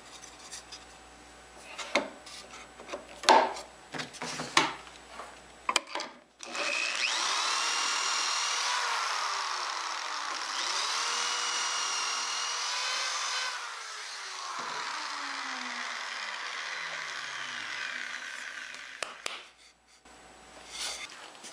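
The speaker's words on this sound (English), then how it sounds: "it seems only fitting that I use pocket hole screws to connect these scrap pieces together" A power drill drives pocket hole screws into scrap wood pieces, a steady whirring drone held for about twelve seconds with pitch dips as each screw seats, preceded and followed by scattered clicks and handling knocks.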